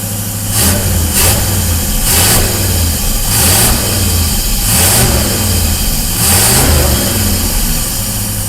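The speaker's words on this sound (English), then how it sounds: "We're running a little high RPM" A Cadillac engine just started in a Winnebago-style motorhome runs at a high idle of about 1400 RPM, a loud, steady drone with a rhythmic pulsing swell every second or so.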